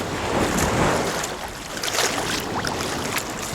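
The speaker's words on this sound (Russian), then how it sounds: "И волны уже так подуспокоились, поэтому можно искупаться, не прыгая на волнах." Sea waves wash onto a beach in Pattaya, Thailand, in the evening, a steady broadband surge and hiss with soft rolling swells, fairly close and continuous, with no talk over them.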